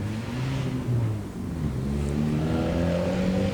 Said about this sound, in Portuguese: Tá ouvindo o barulho do carro dele?